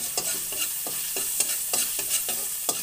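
Garlic sizzles steadily in a hot pan for squid and vegetables cooked in coconut milk, broken by regular scraping strokes of a spatula stirring about every half second, close and clear with no talk.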